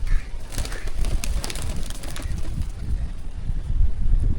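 A pigeon coos softly on a gallery ledge, low repeated throaty calls over a steady background hum, with a faint flutter of wings.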